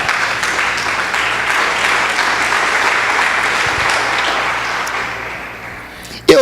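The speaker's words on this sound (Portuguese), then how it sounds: "As palmas para o Senhor bem forte." A church congregation claps loudly and continuously during a worship service, a dense close applause held for several seconds before it stops abruptly.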